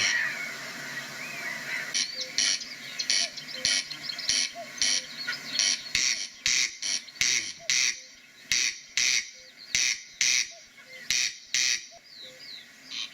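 A corncrake, a rarely seen bird of hay meadows, calls in repeated rasping double bursts, regular and fairly loud, over a background of other birdsong.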